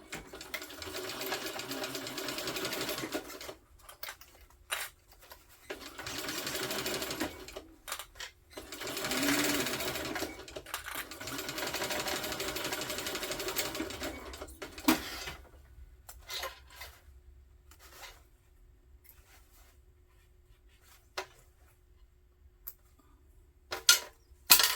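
A sewing machine stitches a crossbody hip bag in several bursts of rapid whirring, stopping and starting between them, then goes quiet apart from faint handling clicks.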